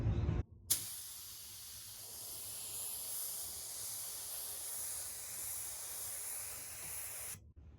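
A spray gun lays down wood finish in one long, steady hiss that starts abruptly after a short gap, holds for about seven seconds and cuts off sharply, close and alone.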